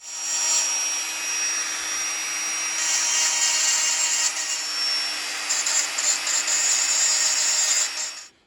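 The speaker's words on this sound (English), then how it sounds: "I've just used the edge of a drill bit there to soften a mould line" A drill bit's edge scrapes steadily along a mould line on a resin Baldwin the Pious miniature, a close, continuous hissing rasp lasting several seconds with slight surges and no talk.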